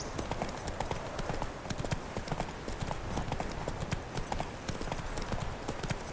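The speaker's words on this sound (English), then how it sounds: "My horse is going along the road on its own." Steady hoofbeats of a horse in The Witcher 3: Wild Hunt clip-clop along a road at an even walking pace, with faint ambient background beneath.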